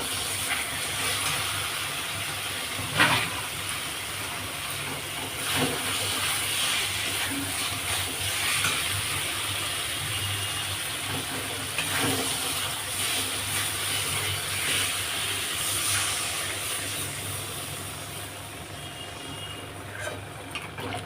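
Water poured into hot spiced oil while cooking a rui fish kaliya sizzles and steams with a continuous hiss, with occasional sharper crackles over a steady background.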